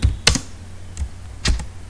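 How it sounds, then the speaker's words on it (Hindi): Keys pressed on a computer keyboard, a few sharp close clicks in two short bursts, with no talking. "अल्ट स्पेस दबाते हैं"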